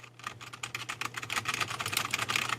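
Rapid, even typing on an LVL UP mechanical gaming keyboard with soft, not very clicky keys: a quiet, continuous patter of close keystrokes with no voice.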